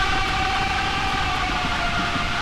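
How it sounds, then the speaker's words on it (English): Siren entity from the Roblox game Apeirophobia letting out a massive, sustained scream, a loud steady wailing tone with layered harmonics that holds unbroken throughout. "When the Siren does his like little scream, well, not so little, kind of massive scream"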